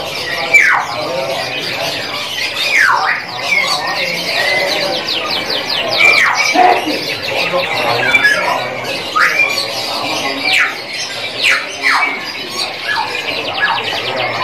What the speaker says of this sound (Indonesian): Inilah penampakannya dari sebagian stok kenari yang jenis loper